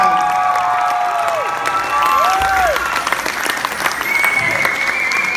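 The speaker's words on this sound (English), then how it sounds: "give them a round of applause" A concert audience gives loud, continuous applause for a high school wind ensemble at a spring concert, mixed with cheers, whoops and rising whistles over the clapping.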